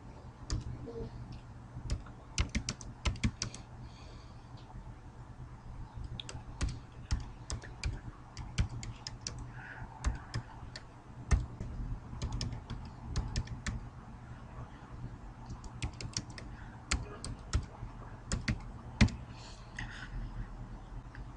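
Keys on a computer keyboard are typed in irregular bursts of close, crisp clicks with short pauses, over a faint steady hum and with no talking.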